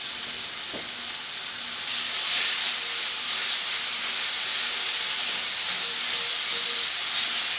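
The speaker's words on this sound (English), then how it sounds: "We've got 10 strips of bacon, and we'll just drop that in our 12-inch log skillet." Ten bacon strips sizzle in a 12-inch skillet, giving a loud, steady broadband hiss and crackle with a few faint pops, close up and without speech.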